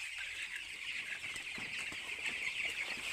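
Young chickens in a poultry farm shed at night, warmed by lamps, cluck and cheep continuously, a dense steady chorus of many birds close by with no talk over it.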